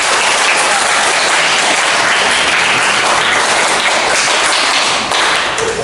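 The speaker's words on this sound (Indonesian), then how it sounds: "Tepuk tangan semua." Classroom applause from a group of students, steady dense clapping filling the room for about six seconds and easing slightly near the end, with no talk over it.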